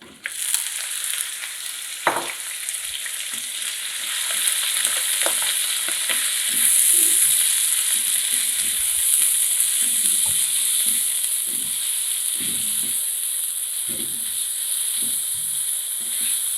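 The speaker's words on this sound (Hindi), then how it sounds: "आपने कीमे को फ्राई करना है" Minced mutton keema fries with onions in a hot pan, giving a continuous close sizzle broken by soft scrapes and taps of a spoon stirring it.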